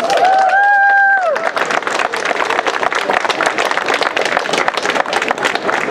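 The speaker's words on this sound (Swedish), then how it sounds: "En applåd till." A sustained musical tone fades out and gives way to loud, dense applause from a crowd at a rally, with cheering mixed into continuous clapping that fills the remaining seconds.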